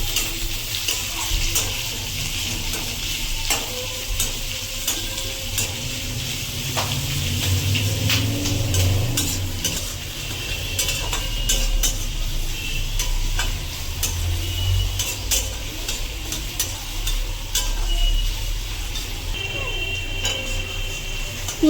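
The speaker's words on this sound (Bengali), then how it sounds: "পেঁয়াজ এবং লঙ্কাটা কিন্তু একটু মিডিয়াম ফ্লেমে ভাজতে হবে" Chopped onions and green chillies sizzle in oil in a wok over medium flame, a continuous soft crackle with scattered ticks and spatula scrapes throughout, close and steady with no voices.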